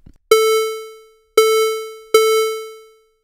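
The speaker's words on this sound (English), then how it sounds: "Now let's try the square wave." Three bright, buzzy square-wave notes synthesized in ToneJS, all at the same pitch, each starting sharply and fading, with short gaps between them.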